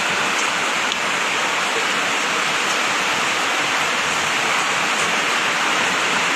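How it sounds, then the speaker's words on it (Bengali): Heavy rain pounds a tin roof at dusk, a dense, continuous hiss and drumming roar that stays loud and unbroken throughout. "উপরে টিন দেয়া, যা জোরে বৃষ্টির আওয়াজ হচ্ছে।"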